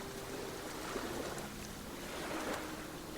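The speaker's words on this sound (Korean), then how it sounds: "멀리 파도 소리가 나지막하게 들려옵니다." Distant ocean waves wash softly and steadily in a quiet predawn setting, a low continuous murmur of surf with gentle swells rising and falling, with no voices present.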